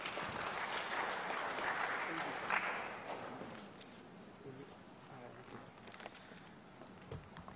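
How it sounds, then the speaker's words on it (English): Applause from an audience welcoming a speaker to the podium at an economic partnership event, a broad dense clapping that swells early and then tapers off, fading to scattered claps. "let's welcome him with a round of applause"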